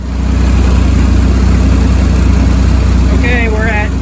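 A Model A Ford engine holds a steady run at about 1850 RPM, a loud, close, even drone with a fast regular pulse, while a voice talks briefly near the end.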